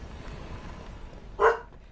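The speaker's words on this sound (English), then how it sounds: "Hey, the dog's angry with you, Rich. He's barking." A single short, sharp bark rings out from a dog indoors, standing alone above a quiet background hum.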